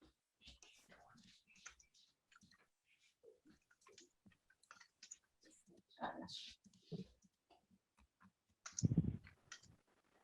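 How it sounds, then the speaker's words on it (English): Faint, rapid clicks of computer keyboard typing during an online meeting call, scattered irregularly through quiet voices talking, with a louder burst of sound near the end. "I can hear you typing on the keyboard."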